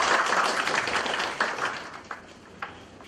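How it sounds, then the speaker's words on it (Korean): An audience at a Korean panel discussion on apartment communities claps for the next speaker, a burst of applause that thins out to scattered claps within a few seconds. "뜨거운 박수 부탁드립니다."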